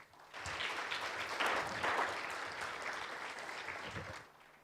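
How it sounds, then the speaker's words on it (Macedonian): Sustained audience applause fills a sports award gala hall, a dense steady wash of clapping that swells briefly in the middle and fades out near the end, with no talk over it. "аплауз"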